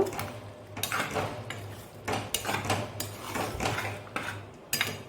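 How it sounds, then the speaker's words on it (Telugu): A spatula stirring raw shrimp and sorrel leaves with cumin and coriander powder in a pan, repeated scraping and rubbing strokes against the metal, close and fairly loud, with no talk. "ఒకసారి కలుపుకుందాము"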